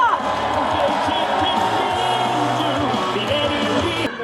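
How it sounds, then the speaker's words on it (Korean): Political rally crowd in Sejong cheering and clapping for a presidential candidate, a loud sustained roar of voices and applause filling the whole stretch, with an amplified voice over it. "다시 한번 뜨거운 박수와 함성 부탁드립니다"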